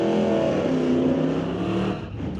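Loud, steady engine roar of drag race cars, a Nova and a Plymouth, at a pro drag race meeting, holding high for about two seconds before easing off slightly.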